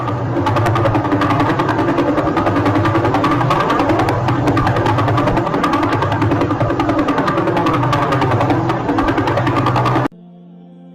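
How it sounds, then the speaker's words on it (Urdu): Radio signals from a pulsar star converted into sound: a dense, steady mechanical pulsing drone with rapid regular beats, loud and continuous for about ten seconds before cutting to a faint tone. "الیکٹرو میگنیٹک ویوز کو جب ساؤنڈ ویوز کے اندر بدلا گیا تو ہمیں اس پلسر سٹار کی کچھ ایسی آوازیں سننے کو ملی"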